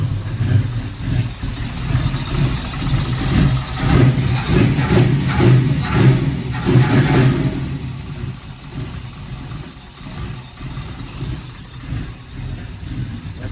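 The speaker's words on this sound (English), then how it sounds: "Fell back to idle like perfectly." A Chevrolet Nova project car's engine settling back to idle after revving, a steady, rumbling idle close by that gradually calms and quiets, no talking.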